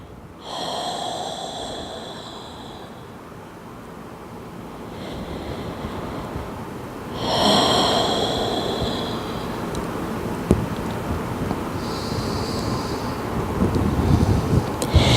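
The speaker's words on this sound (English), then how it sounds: "Take 3 breaths here." Slow, deep breaths during a yoga child's pose, forehead down and heart resting on the thighs: a few long, airy inhales and exhales, close to the microphone, with a steady hiss underneath.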